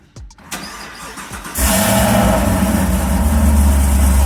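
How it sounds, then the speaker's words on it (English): A Camaro ZL1 with a rebuilt transmission after a driveshaft failure cranks briefly, then fires and settles into a loud, steady, rumbling idle close by, with no talking. "I'm gonna fire her up right now."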